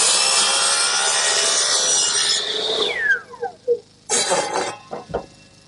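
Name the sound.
miter box saw cutting wooden chute at 4 degrees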